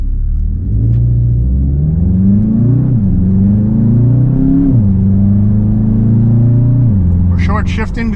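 A 2026 Volkswagen Jetta GLI engine revs up close and loud, its pitch climbing and then dropping with each short-shifted gear change, several shifts in a row, with a brief rattle near the end.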